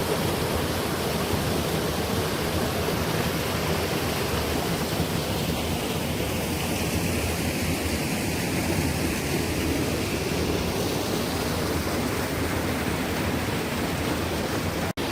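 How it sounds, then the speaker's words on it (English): Waterfall pouring down near a sea cave on a rugged coastal hiking trail, a steady broadband rushing roar that stays constant and moderately loud throughout, with no voices. "And I can see a waterfall coming down over there"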